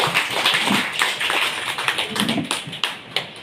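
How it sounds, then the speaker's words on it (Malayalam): Elderly residents and guests at a monthly gathering in a home for the elderly clap for a prize winner, a steady patter of many hands close by that thins toward the end, with no voices over it. "നല്ലൊരു കൈയടി"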